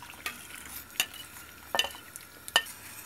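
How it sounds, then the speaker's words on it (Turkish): A spoon scraping and clinking against a pot of Turkish yogurt and cracked wheat soup in a few separate strokes, over a soft steady simmer. "tencereme ilave edeceğim. Karıştıra karıştıra."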